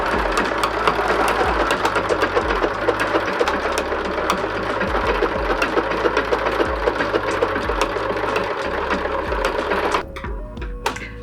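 A sewing machine stitches a decorative pattern with WonderFil thread onto a ribbon-trimmed zipper purse, running in a fast steady mechanical chatter with rhythmic shifts in pitch before stopping abruptly near the end.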